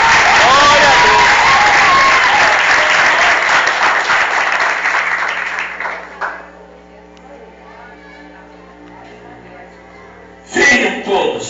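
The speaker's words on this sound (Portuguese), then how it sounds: "Dê um forte aplauso ao Espírito Santo." Church congregation claps in strong, sustained applause that gradually fades over several seconds, leaving quiet room tone before a brief burst of sound near the end.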